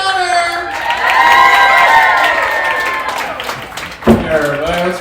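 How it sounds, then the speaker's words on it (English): A live audience at a comedy show at Underground Arts cheers, whoops and claps loudly and steadily for the host's entrance, a dense crowd roar that swells then briefly dips before a sharp shout. "let's get those hands clapped for our host for the night"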